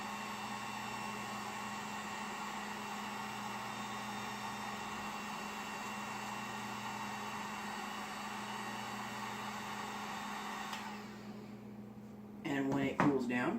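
A heat gun blows a steady, even whoosh over heat-shrink tubing for bootlaces, running close and unbroken for about eleven seconds before cutting off. Brief handling noises follow.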